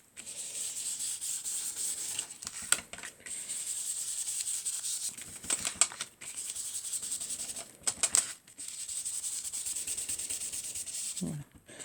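Scrap paper rubbed firmly over a muguet flower card to transfer lettering, a steady dry scratchy friction in long strokes broken by brief pauses, close and continuous with no talking.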